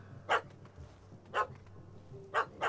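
A small yappy dog in The Witcher 3 barks in short, sharp yips, four separate barks spaced about a second apart, close and clear over a low steady background hum.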